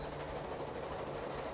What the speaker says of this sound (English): The train slows as it crosses the Potomac River.